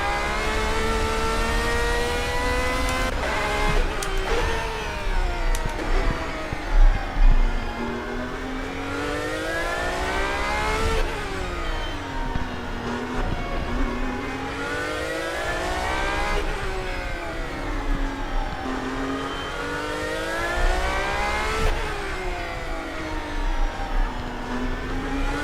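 Race car engine in Assetto Corsa revs hard and loud throughout, climbing and dropping in pitch with repeated gear shifts up through the range, each shift followed by another rising sweep.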